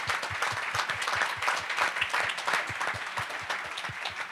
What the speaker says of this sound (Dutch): Geef de pastors een groot applaus voor het werk dat ze doen.